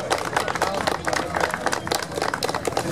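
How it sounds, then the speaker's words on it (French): An audience applauds the pilot, a dense, continuous patter of many hands clapping at moderate distance, with some talk mixed in. "Vous pouvez l'applaudir, mesdames et messieurs."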